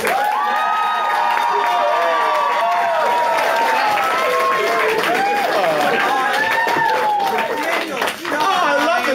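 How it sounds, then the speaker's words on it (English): An audience at a Sailor Moon Day fan event in a Vancouver hotel applauds its host loudly and close. The clapping mixes with cheering, whoops and shouting voices throughout. "we're all going to give a huge round of applause for our host, Daniel Chai."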